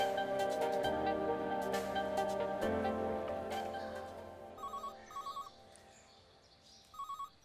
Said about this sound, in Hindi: तुम्हें फोन की आवाज नहीं आ रही?